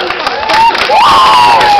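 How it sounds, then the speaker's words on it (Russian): An audience applauds the 16 participants who passed selection, the loud crowd clapping mixed with whoops and a rising whistle-like cheer, steady and close for under two seconds. "Аплодисменты 16 участников, которые прошли отбор."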